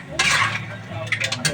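Mussels and shrimp are stirred in a cooking pot, giving close, scraping swishes of a utensil against the pot with a light clink and faint sizzle underneath, in a few quick strokes.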